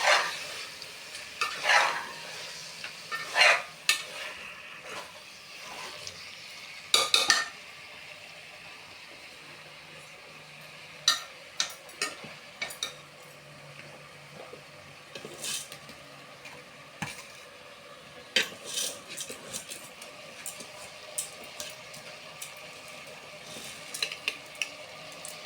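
Chicken biryani being stirred in a pot after turmeric powder and salt go in, with scattered scraping and clattering spoon strokes and soft sizzling between them, irregular bursts across a quiet background without speech.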